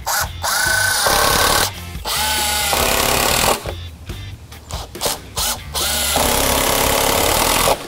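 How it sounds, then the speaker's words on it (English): Power drill driving a 3-inch screw into pallet wood, several loud whirring bursts of about a second each, separated by short pauses and scrapes, close up. "Just grab a 3-inch screw. Just tack them together so it doesn't move around."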